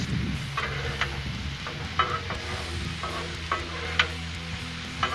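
Peppers, onions and mushrooms sizzle steadily on a hot griddle for cheesesteaks while a spatula stirs and scrapes them, with sharp metallic clicks and taps at irregular intervals over the constant close frying hiss.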